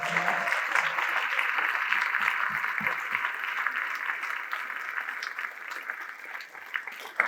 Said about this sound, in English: Once again, a round of applause for all our community members that are here.